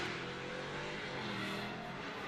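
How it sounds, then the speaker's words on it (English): A 650-horsepower LS7 V8 drift car roars steadily at high revs during a British Drift Championship qualifying run at Teesside, a continuous loud engine drone with no pauses. "You just hear him, that new LS7 under the bonnet, 650 horsepower."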